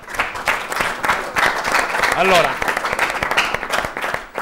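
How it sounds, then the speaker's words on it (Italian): Studio audience applause welcoming a guest coach on a local Italian TV sports program, steady clapping filling the clip under a voice speaking briefly. "accogliamo con un applauso"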